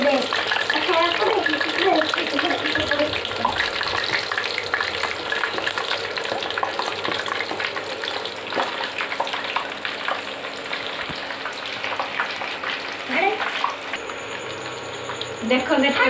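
Puris fry in hot oil in a home kitchen, a dense, continuous sizzle and crackle with occasional stirring and splashing clatter, while someone talks over it.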